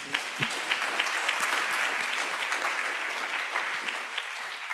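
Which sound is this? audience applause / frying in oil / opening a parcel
audience applause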